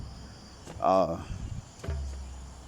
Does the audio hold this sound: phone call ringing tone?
no